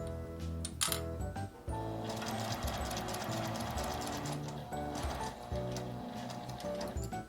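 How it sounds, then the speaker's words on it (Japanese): Sewing machine stitching around the curved edge of an L-shaped zip tablet case, a steady close mechanical whirr with rapid needle ticking that runs almost without pause, with brief stops and restarts. "カーブのところも押さえながら縫います。"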